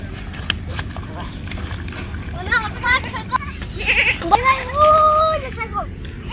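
A goat bleats a few times, one short wavering cry and then a longer drawn-out one, over steady rumbling outdoor noise.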